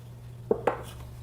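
Two light clicks and taps of paper cups going into metal muffin tins, spaced a moment apart and near, over a faint steady hum in a home kitchen.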